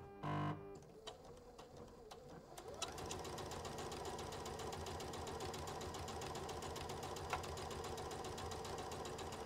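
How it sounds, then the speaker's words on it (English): After a brief thump and some handling noise, a sewing machine stitching a quilt starts up and runs in a steady, close, whirring rattle until the end. "All right. Let's sew."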